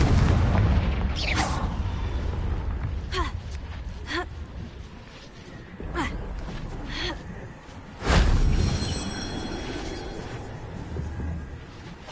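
Confringo blasting spells erupt in booming explosions in Hogwarts Legacy, several sharp blasts spread across the stretch with the loudest near the end, over a rumbling game soundscape.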